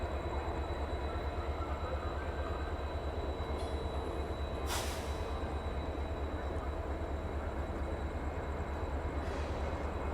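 Two Vande Bharat Express trains cross each other near Banaras, a loud continuous rumble of passing rail cars with brief bright squeals of wheels or horn.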